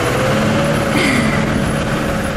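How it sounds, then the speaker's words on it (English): Farm tractor straining to pull a stuck car free on a snowy road in Kemi, Finland: a steady, loud engine drone holds throughout, with a faint rising whine midway. "Right now, the tractor driver's trying to move our car."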